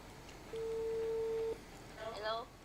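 An outgoing phone call rings once as a single steady tone lasting about a second, followed by a brief warbling electronic chirp, quiet and close over a faint background hiss.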